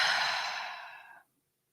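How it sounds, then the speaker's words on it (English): One deep, breathy exhale close to the microphone, starting full and fading over about a second before cutting off into silence, alone without any talk. "Let's take a deep breath and just pause"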